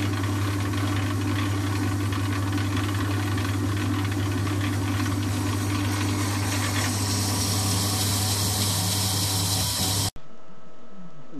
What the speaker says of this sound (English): So let's machine it.